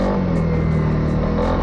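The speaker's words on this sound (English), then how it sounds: "Surging, you see that?" A Honda CRF300L motorcycle engine runs unevenly at an off-road park, its loud steady drone wavering and surging slightly in pitch up close, with no talking.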